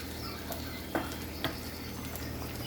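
Shrimp fried rice frying in plenty of oil, a steady close sizzle with two sharp scrape-and-stir clatters of a utensil against the pan, no voices.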